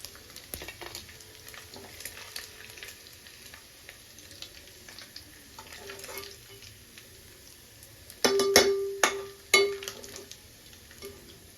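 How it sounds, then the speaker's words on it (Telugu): Oil bubbles and crackles softly in a pan as dried fish fries for a pickle. A quiet, continuous sizzle carries on throughout, with louder clinks and scraping stirs near the end. "ఓకే అండి ఫ్రై అయిపోయింది మనకి ఆయిల్ కూడా ఇట్లా కొంచెం బబుల్స్ లాగా వస్తుంది"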